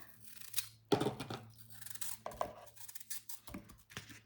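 A knife scraping and cutting the core out of a quartered apple in a home kitchen, a few short, crisp cutting and scraping strokes spaced out against a quiet background hum.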